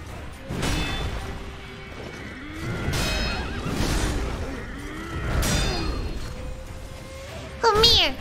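In the video game Sekiro: Shadows Die Twice, a horse whinnies and neighs several times amid game thuds and hits, with a person talking over the sounds.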